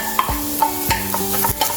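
Onion tipped into a hot pan and stirred while cooking a spicy pepper sauce: a few quick scraping strokes of a utensil over a soft frying crackle, close and fairly loud, all within a couple of seconds.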